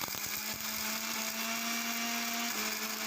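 An electric grinder whirs loudly and continuously as it grinds biryani masala spices, a steady high-pitched motor roar whose tone shifts slightly near the end, with no voices.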